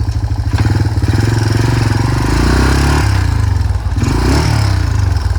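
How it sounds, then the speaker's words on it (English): An old air compressor runs steadily with a chugging, engine-like drone as it inflates a low tire on a Yamaha Tri Moto 200 three-wheeler, holding close and loud with a slight dip near the end. "The old trusty compressor got us hooked up"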